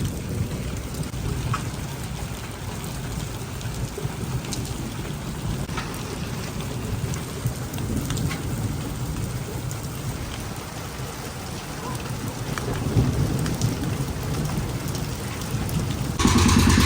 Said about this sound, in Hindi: बात करते करते ही बारिश भी आना शुरू हो गई है